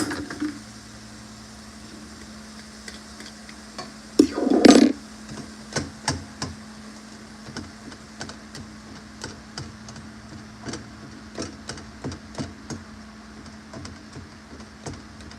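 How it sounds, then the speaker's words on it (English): A metal fork scratches and taps across a Teflon frying pan while food cooks, making faint, irregular clicks and short scrapes over a quiet sizzle, with one louder clatter near the middle. "I shouldn't be using this fork. I'm scratching up my Teflon."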